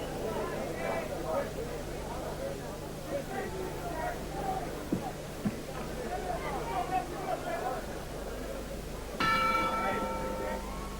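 A boxing ring bell clangs once near the end of the opening round of a professional fight in Las Vegas, ringing out over crowd noise and steady commentary.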